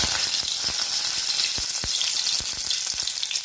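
Bay leaf and whole cumin hit hot refined oil in a kadai, crackling and popping in quick sharp bursts over a constant bright hiss, close and lively.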